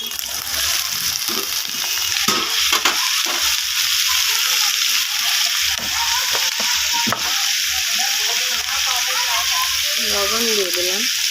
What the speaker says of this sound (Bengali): তো এখানে আমি আলুটা ভেজে নেব তেলের মধ্যে।